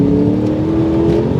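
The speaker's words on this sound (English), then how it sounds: "when you unleash that V8 engine, your inner Greg Murphy comes out" A V8 engine in a Holden VY Commodore Clubsport R8 holds a loud, steady high rev, a close droning roar that runs unbroken for a moment.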